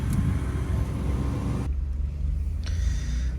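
A 2020 Ford F-150 with the 2.7 EcoBoost and an AWE exhaust idles, giving a steady low rumble that holds even and mellow throughout.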